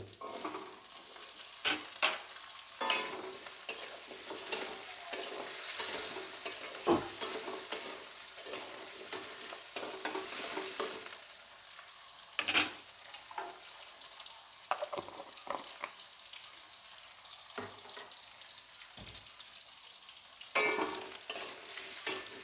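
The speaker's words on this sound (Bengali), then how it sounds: "যতক্ষণে আলুটা ভাজা হচ্ছে" Potatoes sizzle steadily in hot mustard oil while a spoon scrapes and stirs the pan in irregular bursts, close and clear.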